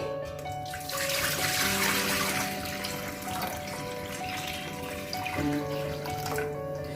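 Tap water runs steadily into a large, wide-mouthed cooking pot, filling it a little past halfway, a close and moderately quiet gush with a faint trickle underneath.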